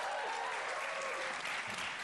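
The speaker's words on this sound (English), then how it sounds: "Clap your hands." Studio audience clapping hands in a brief, loud, continuous burst that fills the moment without a break.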